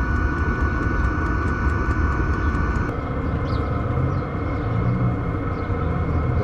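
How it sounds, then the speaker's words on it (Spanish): A Chinese diesel parking heater runs outside, its exhaust making a steady, loud broadband rumble with a faint tick of the fuel pump, continuous throughout with no talk. "Es más el ruido del escape que el de la bomba."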